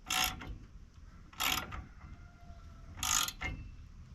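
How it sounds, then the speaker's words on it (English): Ratchet wrench tightening a nut while fitting a new winch on a jon boat, heard as three short bursts of quick ratcheting clicks spaced about 1.5 seconds apart, fairly close with light background hum between. "Let's tighten the nut down."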